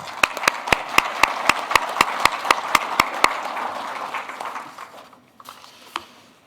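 An audience at an agricultural bean industry awards session gives a round of applause, starting with sharp, evenly spaced claps, then scattered clapping that fades out with a brief last clap.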